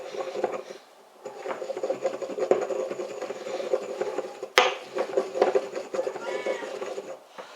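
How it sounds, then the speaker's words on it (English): A spice mix is ground together in a steady, close rubbing and scraping grind that runs nearly the whole time, with one sharp knock partway through. "Now, we're going to grind that all together a bit."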